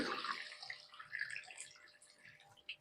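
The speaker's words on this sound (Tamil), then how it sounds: "தண்ணி விட்டு" Water poured into a kadai holding elephant foot yam pieces with turmeric and salt, a soft splashing pour that tapers off over a few seconds, faint and close.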